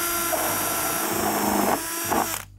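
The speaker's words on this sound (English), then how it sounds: "I'm just drilling a series of holes across the wall of the bucket." A power drill bores a series of holes through the wall of a plastic bucket, whining loudly and steadily at close range with small changes in pitch before it stops abruptly.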